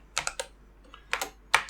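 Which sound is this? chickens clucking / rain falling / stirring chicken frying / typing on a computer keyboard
typing on a computer keyboard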